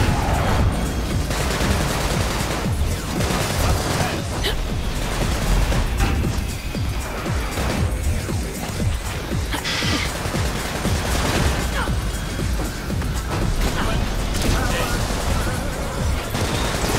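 Rifle bots firing in Sunset Overdrive, a sustained barrage of loud, chaotic gunfire mixed with crashes and blasts, running continuously with shouted voices breaking through the din.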